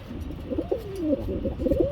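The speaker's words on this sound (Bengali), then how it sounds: "বড় সাইজের কবুতর" Large pigeons coo with soft, low, rolling calls that repeat through the moment, close by, with faint background noise.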